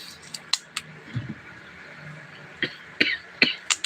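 A person coughs several times in short sharp bursts while preparing vegetables for pinakbet, including yardlong beans, in a home kitchen, with light clatter between the coughs.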